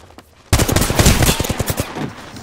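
Automatic weapon fire in Apex Legends played on Xbox One: a loud, sudden burst of rapid shots that starts abruptly and runs as a continuous rattling stream, with no talking over it.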